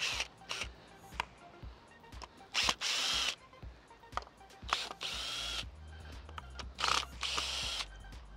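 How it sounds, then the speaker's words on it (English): A power drill backs a couple of screws out of garden edging paving in a series of short, loud, close whirring bursts, with brief gaps and clatter between them. "we're just going to take a couple of screws off."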